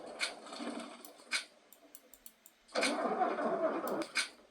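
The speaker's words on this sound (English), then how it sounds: "Right, let me see if I can start this bus up again." A bus engine cranks in two bursts, the first brief and the second longer and louder, failing to catch, with faint clicks and ticks in the quiet gap between attempts.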